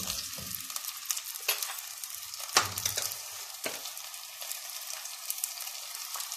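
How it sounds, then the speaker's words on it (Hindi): Mutton sizzles and fries in a pan after about a teaspoon of salt goes in, a steady crackling hiss with a few louder stirring scrapes, close by with no talk. "तो हम डाल देते हैं तकरीबन 1 टीस्पून नमक और इसको हम भून लेते हैं"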